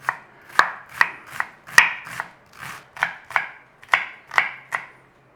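A knife dices an onion on a cutting board in about a dozen sharp, close chopping knocks at an uneven, deliberate pace, with quiet gaps between strikes and no talking.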